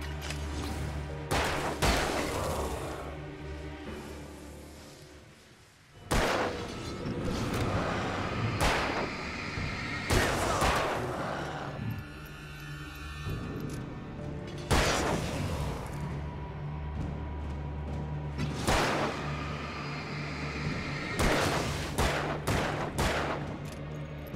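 Gunfire in Alan Wake: bursts of loud, close shots and volleys cracking irregularly over a low droning backdrop, with brief lulls between clusters of firing.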